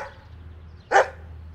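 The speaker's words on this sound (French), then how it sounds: "Il se remet à aboyer" A big dog lets out a single sharp, fairly loud bark from close by, standing alone against a quiet low hum.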